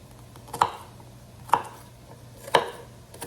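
A knife chopping cabbage for soup on a board, four evenly spaced crisp thuds about a second apart, close and clear over a quiet background with no talking.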